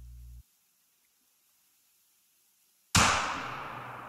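A single sharp rifle shot fired at a whitetail deer in the hunting game The Hunter: Call of the Wild, cracking loud after a long silence and ringing out with a slowly fading tail.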